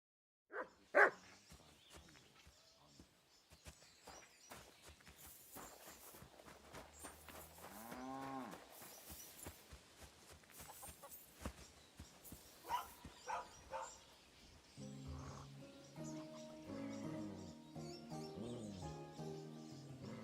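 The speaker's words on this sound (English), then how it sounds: "You silly doggy." A dog's barks and yelps, mixed with lowing, moo-like calls and other animated noises, scattered over about twenty seconds at a fairly quiet level, turning busier and more musical toward the end.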